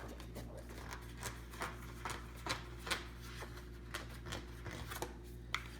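A paper page torn off a pad along its perforated edge: a quiet, close run of small crisp ticks and rips spaced irregularly over a few seconds.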